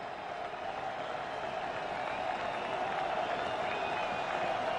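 Football stadium crowd at a 2009 Kansas State vs Iowa State college game, a steady dense roar of cheering fans on their feet on third down, continuous and loud with faint talk mixed in.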